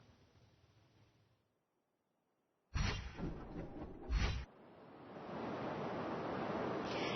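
Surf washes in at Blue Lagoon beach, a popular fishing spot in Durban, as a steady broadband roar with a louder gusty burst, likely wind buffeting the microphone, before settling into a constant wash.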